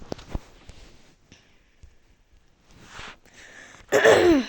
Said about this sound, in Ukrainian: в мене просто кашель.